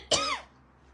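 A woman gives a single short, harsh cough close to the microphone, after which the room falls quiet.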